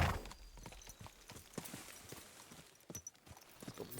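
Horse hooves clip-clop in Kingdom Come: Deliverance 2, a steady walking rhythm of distinct hoof strikes at moderate distance, with faint ambient game sound underneath and no talking.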